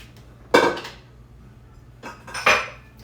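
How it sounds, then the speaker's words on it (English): Dishes, pots and pans are washed on a meal prep day while cooking beef stroganoff, giving two sharp clattering clanks of metal and crockery about two seconds apart, close by and with no talking. "I always have a bunch of dishes to wash on meal prep day."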